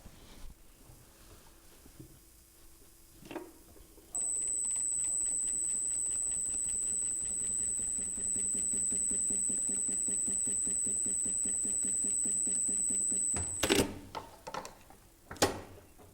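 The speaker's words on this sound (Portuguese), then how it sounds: "Aí eu vou terminar essa costura" Sewing machine stitching a seam on a 3D patchwork panel, running in a steady, continuous mechanical whir for about nine seconds, with a few clicks and handling knocks before and after.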